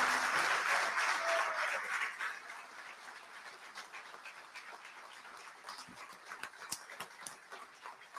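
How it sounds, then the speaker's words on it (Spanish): Audience applause for a moderator and panel speakers at a formal event, loud and dense for the first two seconds, then thinning to scattered claps and murmur. "pedimos nuevamente un aplauso para el moderador, para los disertantes"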